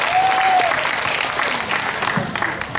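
An audience at the final of a Vietnamese book-reading contest gives steady, sustained applause throughout, a dense wash of clapping from a crowd filling the hall.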